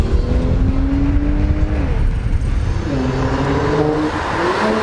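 Mercedes C43 AMG engine pulling hard on a test drive, loud and close, with rising harmonic tones as it accelerates through gears, steady engine roar throughout with no talking.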